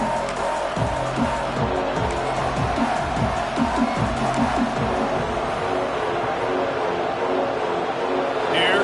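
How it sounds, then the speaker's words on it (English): Stadium crowd roar on third down in a college football video game set at Happy Valley, a loud continuous wash of crowd noise beneath a commentator's voice throughout. "Comes the noise from this big crowd in Happy Valley on 3rd down"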